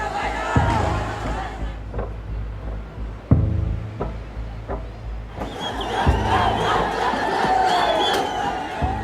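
Protesters in Nepal crowd and shout during unrest at government buildings, a dense, loud roar of many voices with repeated sharp bangs and surges of yelling throughout.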